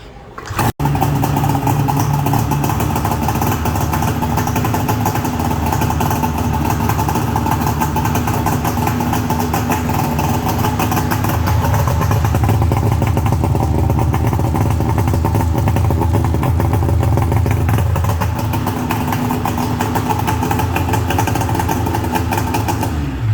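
A Polaris triple-cylinder snowmobile engine with EFI starting with a sharp catch, then settling into a steady, loud idle with a continuous buzzing drone and slight swells in pitch.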